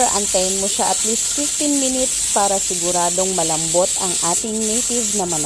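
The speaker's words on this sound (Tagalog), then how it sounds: "Ayan, naririnig ko na yung tunog ng ating pressure cooker." A pressure cooker of native chicken for tinola gives a steady, fairly loud hiss that runs the whole time beneath a person talking.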